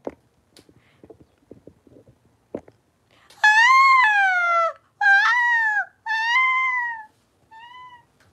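A pet cat meows loudly up close, with four drawn-out meows in a row, the last one shorter and quieter, after a few soft clicks and taps.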